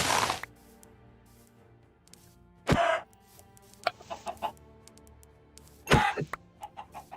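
Chickens in the Minecraft Vault Hunters modpack, loud squawking hurt cries in three bursts with softer clucks in between, heard alone over quiet game ambience.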